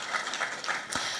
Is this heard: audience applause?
yes